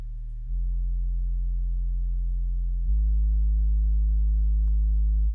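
Second synth bass pattern from an FL Studio Afrobeats remake of a song: sustained, smooth sine-like low notes holding steadily, then stepping up to a louder held pitch, clean and solo.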